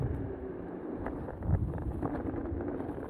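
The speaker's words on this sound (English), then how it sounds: "It's pretty windy, so I hope you can hear me all right." Strong wind buffets the microphone while riding a four-wheel-drive electric skateboard with big tyres across a field, a close, gusty low roar with faint rolling rumble underneath and no speech.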